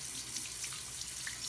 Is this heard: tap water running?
yes